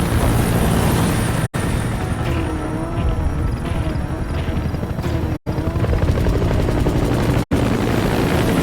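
A support helicopter in the video game Metal Gear Solid V, a loud, close rotor and engine roar sustained throughout with heavy battlefield rumble, broken by a few abrupt instant dropouts.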